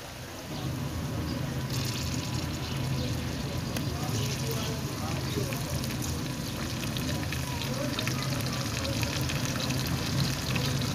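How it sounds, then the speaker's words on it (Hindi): Tomatoes go into a hot pan for an egg and pea korma in a village kitchen, and a steady loud sizzle rises after a brief quiet start and continues throughout. "टमाटर डालेंगे"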